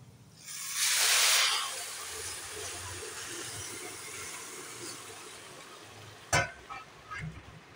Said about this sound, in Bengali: এবার গরম জল দিয়ে দেবো। যতটা চাল নিয়েছি তার ডবল গরম জল করে নিয়েছি, সেটা দিয়ে দেবো।